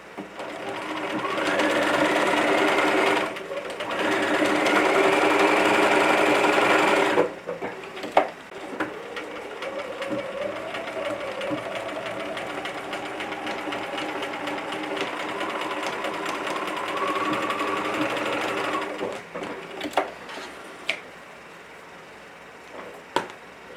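A sewing machine stitches the seam of a ticking-fabric tote guided by its seam guide, a loud steady mechanical whir that runs in long bursts, pauses briefly, then continues more lightly before ending in a few scattered clicks.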